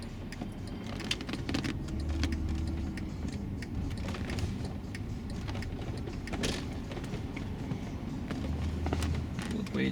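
A Mercedes-Benz ML350 3.5 V6 drives on LPG through a Landi Renzo Omegas gas system, a steady low engine drone inside the cabin with scattered faint clicks and rattles.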